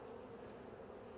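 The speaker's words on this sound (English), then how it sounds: "Yep, we got boy bees. We got girl bees." A steady, dense buzz of honeybees fills a spring hive inspection, close and continuous with no voices.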